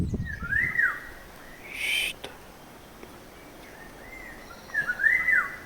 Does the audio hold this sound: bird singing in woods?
yes